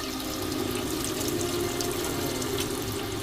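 Cold tap water runs steadily over boiled eggs in a sink, a constant rushing stream with no voices.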